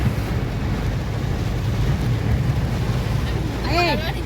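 Heavy rain pours down steadily in Ahmedabad as school lets out, a dense continuous hiss that fills the whole stretch, with a brief voice near the end.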